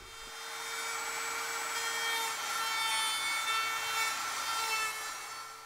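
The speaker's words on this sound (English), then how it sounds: "clamp your rough cut piece on top of your template and then move the router very slowly from right to left" Router cutting a rough-cut piece clamped on a template, a steady high-pitched whining grind with a constant motor tone that rises and falls gently as the cut moves along, heard alone.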